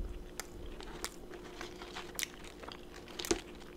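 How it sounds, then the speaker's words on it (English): French fries dipped in sauce are bitten and chewed up close, giving soft irregular crunches and mouth sounds over a low background hum, with no talking. "Let me actually kill some of these fries here"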